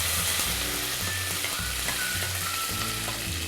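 Curry leaves, green chillies and red chillies sizzle in hot oil with asafoetida while making rice upma, a steady close crackle running throughout with no talk.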